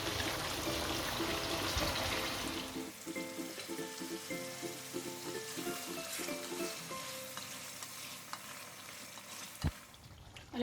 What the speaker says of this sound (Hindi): हमने कोरमा बनाना है तो हम थोड़ा सा पानी डालेंगे।